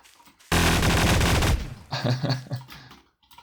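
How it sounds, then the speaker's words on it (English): A fully automatic shotgun firing in the Garry's Mod video game: a dense, loud one-second burst of rapid shots, followed by several quieter shots or impacts trailing off. "Full auto shotgun."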